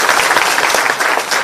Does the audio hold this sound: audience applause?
yes